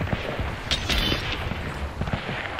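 Rapid gunfire in a survival video game, a dense barrage of sharp shots and booms over a loud, noisy background, continuous for a couple of seconds.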